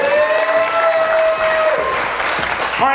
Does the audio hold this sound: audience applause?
yes